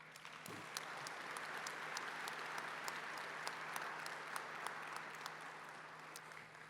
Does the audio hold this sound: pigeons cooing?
no